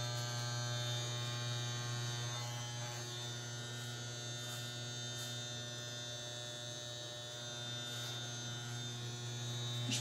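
Electric hair clippers run against a man's neck and hairline during a home haircut, giving a steady, close, unbroken buzzing hum with little change over the whole stretch.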